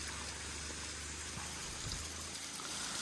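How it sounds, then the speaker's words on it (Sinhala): Steady broadband rush of water running down a channel near Kaharuppa rock temple in Badulla, a spot that floods with runoff on rainy days; the flow is continuous, fairly close and moderately loud, with no talking. "මේ කුඩින් වතුර එනවා."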